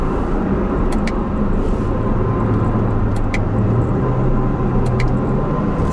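A Chevy C7 Corvette cruises in sport mode in fifth gear, giving a steady low engine drone and road rumble from inside the cabin, constant and moderately loud throughout with no talk.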